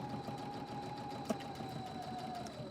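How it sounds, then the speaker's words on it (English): A Husqvarna Viking sewing machine, run from a foot control, sews steadily along a pillow edge with a continuous even motor whir and fast needle rhythm, close and alone. "I'm going to step on my foot control. You're going to see I'm just going to start sewing."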